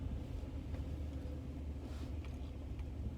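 Low, steady rumble of road traffic in a jam, with idling car engines and a continuous drone close by and no distinct horns or passing vehicles standing out.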